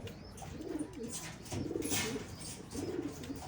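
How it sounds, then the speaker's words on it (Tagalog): Young racing pigeons cooing close by, repeated low, rolling coos in a loose rhythm over a steady background. "Tatlo mga kalapatids."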